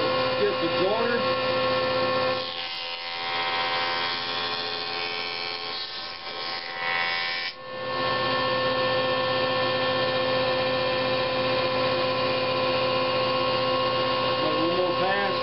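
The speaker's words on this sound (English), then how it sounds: "So I need to joint that edge." A jointer machine runs steadily while jointing the edge of a spalted pecan board, producing a continuous loud motor whine with a brief dip partway through as the cut changes.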